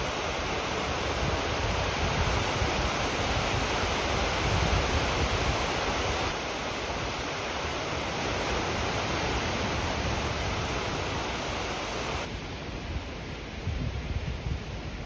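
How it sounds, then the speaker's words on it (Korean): A stream flows where it meets the sea, giving a continuous, dense rush of water blended with surf-like noise, steady and fairly close, with no voices. "하천과 바닷물이 합류하는 지점인가 봅니다"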